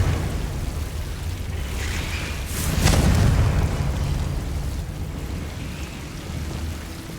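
A Confringo fire spell bursts in Hogwarts Legacy, a single muffled boom with a rushing roar that swells mid-clip and then fades into steady ambient rumble.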